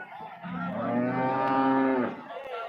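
A single long cow moo at a cattle market in Chintamani, loud and close, rising and holding steady for about two seconds before trailing off, with no talking.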